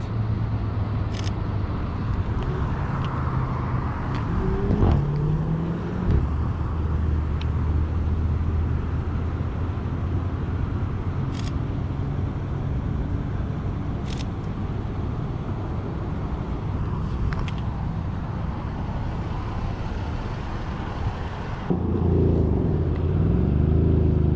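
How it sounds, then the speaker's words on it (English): Off-road setting with a car driving somewhere in the background, a steady low engine hum and road rumble over the whole stretch, punctuated by sharp camera shutter clicks and a swelling engine note near the end. "the guy in the back is practicing driving casually in the background"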